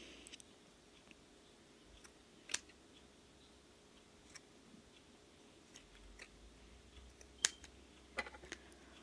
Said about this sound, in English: grab you a pair of scissors and begin to cut it down the middle